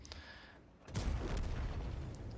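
A tank cannon shot destroys an IS-2 in World of Tanks: after some faint game sounds, a heavy boom hits and rolls into a sustained rumbling blast that stays loud to the end.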